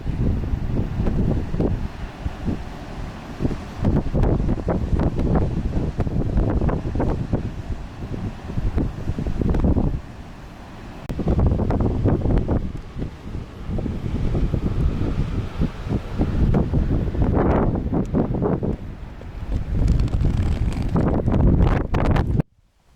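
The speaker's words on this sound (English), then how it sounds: "Not ideal, but still a little bit windy." Strong gusty wind buffeting the microphone almost continuously on the Nullarbor cliffs, a loud low rumble that eases briefly before roaring back, no voices.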